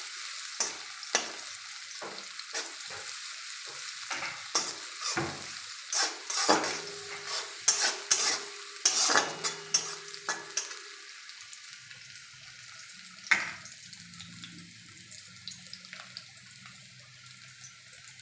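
Onion fries in a pan, a dense sizzle broken by irregular clatter and scraping as a utensil stirs and knocks against the pan, busiest in the middle before settling into a softer hiss.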